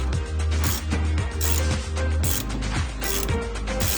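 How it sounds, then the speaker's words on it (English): Rapid ratchet clicks from a wrench releasing the rear sway bar bolt on a 2013 Mazda 3, close and loud, running in steady bursts with short pauses between strokes. "you're going to need to release this bolt right here for the sway bar"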